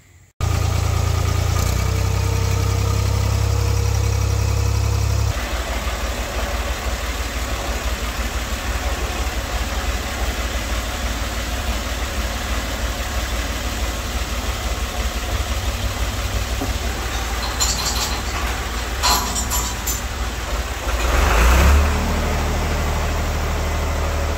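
A tractor engine runs steadily for the whole stretch, a loud continuous low rumble that shifts pitch slightly early on, with a brief louder surge near the end.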